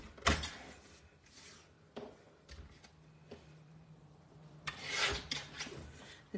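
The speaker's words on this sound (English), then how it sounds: "So I'm going to trim this one first." A paper trimmer cuts through a card in short rasping strokes, with a couple of soft scraping passes and light taps between them. The sound is close but quiet, with no talking.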